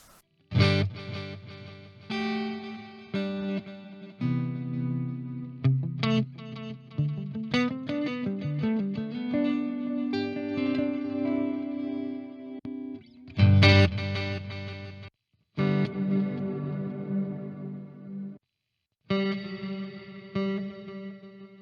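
Guitar through a Zoom GFX10 multi-effects unit set to a digital delay with modulation, chords and single notes trailing into warbling repeats, with a few abrupt cut-offs and near-silent gaps between phrases.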